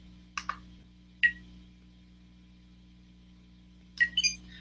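A Spektrum radio transmitter gives short electronic beeps during menu setup: three brief chirps, two close together near the start and a quicker cluster near the end, over a steady low hum.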